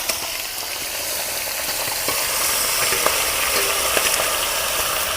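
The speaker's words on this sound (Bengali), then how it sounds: "আর এবার সেই মাংসটা কিন্তু দেওয়া হচ্ছে" Several hundred kilos of chicken tipped into an overfilled wok of hot oil set up a loud, continuous sizzle that holds steady with scattered crackles.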